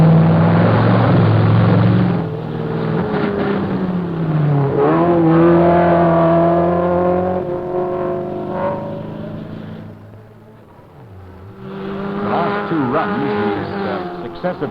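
A 1972 race car climbs the Knox Mountain hill climb course in Kelowna, BC, its engine note rising and falling through the gears as it approaches a corner, loud and continuous under a narrator's voice, fading briefly before surging back.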